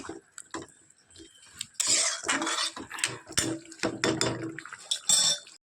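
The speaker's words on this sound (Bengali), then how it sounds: "আমি আস্তে করে দিয়ে বাসন মাজতে যাবো" Dishes and pots are scrubbed and washed at home, with clattering metal utensils, clinks and scraping, splashes of water and brief pauses, close and busy, with no voices heard.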